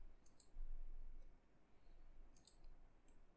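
A computer mouse clicks a few times while selecting a sketch in Creo Parametric CAD software, light crisp taps close by over a quiet room hum.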